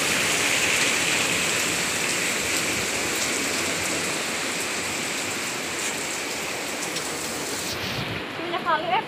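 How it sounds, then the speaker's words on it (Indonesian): Heavy rain pours steadily in a continuous dense hiss, loud and close, with a brief voice near the end. "hujan"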